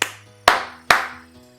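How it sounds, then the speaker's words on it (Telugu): Three sharp hand claps, close and loud, spaced about half a second apart with short room decay after each, made to trigger a phone-finding feature. "ప్రెస్ చేశాక మీరు క్లాప్స్ చేయండి 3 times."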